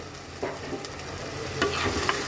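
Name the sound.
prawns added and frying in spice masala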